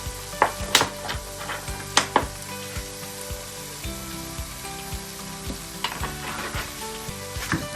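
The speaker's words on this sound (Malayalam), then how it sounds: "ഞാൻ ഈ സമയത്ത് കുറച്ച് എണ്ണ ഒഴിച്ചു കൊടുക്കാൻ പോകുന്നതാണ്" Oil poured into a pan of fried masala for Kerala-style fish curry, crackling and sizzling up close, with scattered sharp clinks and scrapes of stirring over a continuous hiss, no talk.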